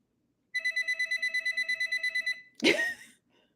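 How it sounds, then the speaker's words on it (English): A mobile phone rings during a live show: a rapid run of bright electronic ringtone pulses lasts about two seconds, then stops, followed by a short, louder noisy burst. "Why is everybody my phone ringing?"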